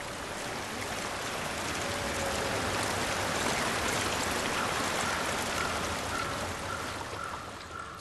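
Water flows steadily along a stream in the video game Hellblade: Senua's Sacrifice, a continuous rushing wash that holds an even level throughout with no voices.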